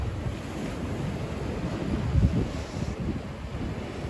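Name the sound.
storm waves on the Yalta embankment at night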